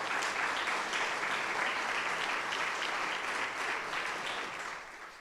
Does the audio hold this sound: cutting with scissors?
no